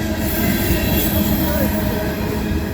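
A Norfolk Southern ethanol train with a Union Pacific ES44AC in the consist rolls steadily past at close range in Creighton, Pennsylvania, a dense continuous rumble of rail cars with faint wheel squeal.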